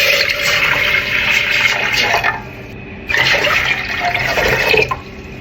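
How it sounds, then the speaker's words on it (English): Water poured into a cooking pot for Jamaican cornmeal porridge in two close, loud gushing bursts separated by a short pause, with a splashy, filling sound. "I'm gonna add like 4 cups of water"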